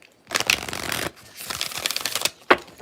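A deck of cards being shuffled up close in two quick riffling bursts, followed by a sharp snap as the cards settle.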